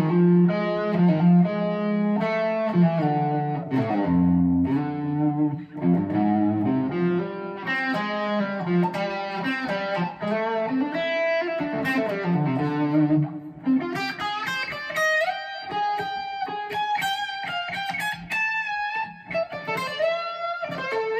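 An electric guitar played through effects with distortion and chorus carries a continuous melodic phrase, with bends and sustained notes that climb into a higher, brighter run, loud and close with no talking.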